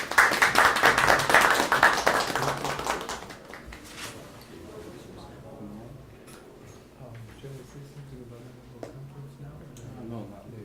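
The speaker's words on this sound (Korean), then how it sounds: "귀한 분을 박수로 맞았으면 좋겠습니다." A room of people applauds to welcome visiting professor and author John Roth before his talk, dense clapping for about three seconds that fades into quiet room sounds with scattered faint voices.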